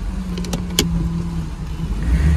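A restored classic car on a test drive, its engine running steadily with a low drone and a few brief clicks and knocks near the start.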